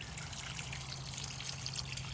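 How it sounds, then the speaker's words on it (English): Water drains in a steady, close trickle from the open grey tank tap of an Auto-Sleeper Fairford Plus campervan, running continuously without pause. "turn the tap, and it will drain"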